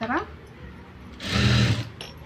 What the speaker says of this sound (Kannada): ಮೇಲ್ಗಡೆಯಿಂದ ಒಂದು ಸ್ಟಿಚ್ ಹಾಕೊಳ್ಳೋಣ